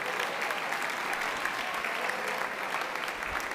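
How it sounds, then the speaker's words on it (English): Steady round of applause from a crowd at a youth awards ceremony, honouring the coaches; continuous dense clapping at an even level, filling the room, with no talking over it. "one more time for your coaches, please give them a round of applause"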